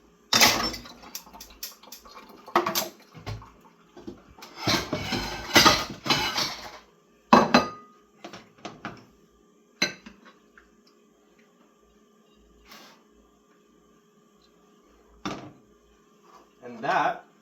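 Plate and cutlery clinking while bacon carbonara is served, scattered sharp clatters and taps arriving in irregular clusters, some close and bright, with quiet gaps between them.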